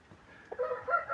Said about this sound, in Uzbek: Yosh jo'ja, o'ta yosh jo'ja.